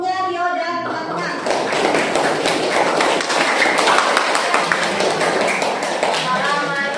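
A room full of students claps for a group at the end of a class presentation, steady dense applause lasting several seconds, with voices mixed in underneath.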